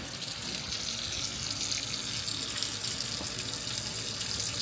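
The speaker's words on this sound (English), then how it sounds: "So now we'll fill the sinks up." A kitchen sink in an apartment fills from the tap, a steady, continuous rush of running water that stays loud and even throughout, with no voices.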